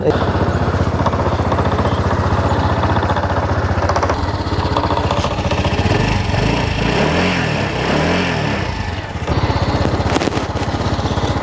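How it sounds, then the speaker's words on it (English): A Honda scooter, either an SH150i or an Elite 110, starts and settles into a steady, quiet idle close by. A person talks over the engine hum. "you push in the left handlebar, kickstand, and you start it. And it's a very quiet bike."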